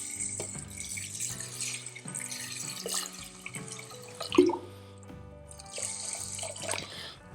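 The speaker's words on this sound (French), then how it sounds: "Et on vient recouvrir avec 3 fois leur volume en eau." Water running from a tap into a pot to cover the cooking ingredients, a close, uneven splashing flow with short pauses and one louder gush midway, no talking.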